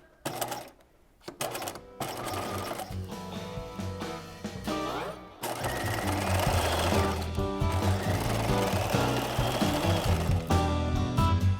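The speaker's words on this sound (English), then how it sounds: "we're going to be stitching on the bottom of the pocket itself" A sewing machine stitches the bottom hem of a top's pocket, starting with a few short clicky bursts and then running in a long steady rattling whir, close up with no talking.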